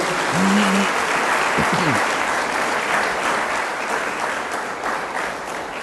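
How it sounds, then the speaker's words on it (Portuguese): Steady, enthusiastic applause from a large church congregation fills the space throughout, with a brief whistle cutting through near the start. "Dê um forte aplauso ao Senhor pela sua vida."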